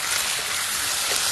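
Eggs frying in hot oil in a home kitchen give a dense, steady sizzle with small crackles and pops, close and continuous with no talking.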